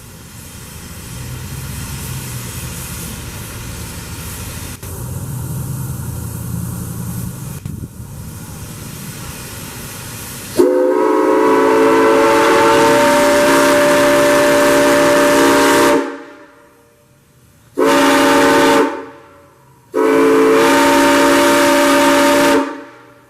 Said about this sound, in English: we will salute all who serve this great country with the sounding of the whistle